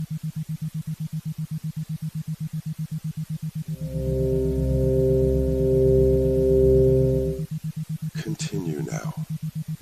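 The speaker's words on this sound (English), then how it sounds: "as you listen to the tones" Sustained meditation tones, a layered chord of steady pure tones, swell in over a constant pulsing low drone and hold for several seconds before cutting off, followed by a brief rustle.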